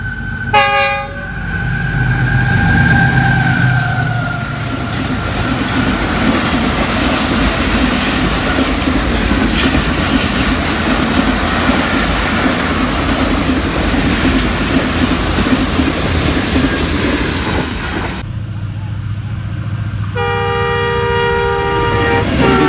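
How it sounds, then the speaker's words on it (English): Millet Express passenger train on a Pakistan railway line, from Karachi, passing close by as a loud, steady rumble lasting about twenty seconds, with a horn sounding at the start and again near the end, and no talking. "Millet Express coming from Karachi and going to Lala Mita."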